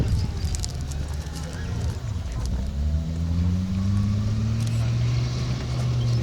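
Tiger 131 tank churning through mud at a show, a deep steady rumbling engine and clanking tracks running loud and continuous, with a rising tone as it shifts up, and voices talking over it.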